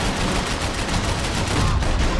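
Gunfire in the action video game Max Payne 3: dense, rapid bursts of shots blending into a continuous loud crackle with no pauses.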